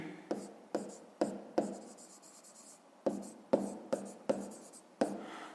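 A pen scratching out quick strokes on paper, about ten short bursts in an irregular rhythm with brief pauses between them, close and fairly soft in a quiet room.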